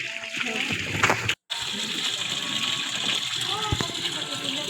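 Cold water gushes steadily from a submersible pump pipe, a constant rushing flow with a brief dropout and a few faint knocks along the way.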